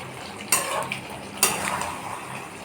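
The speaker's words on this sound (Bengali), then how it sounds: "আলু দিয়ে আমি ফ্লেমটা একটু হাইতে করে নেড়ে ছেড়ে" Potatoes being stirred in a pan over a high flame, with two sharp scraping clanks of a utensil against metal over a soft steady sizzle, close and alone.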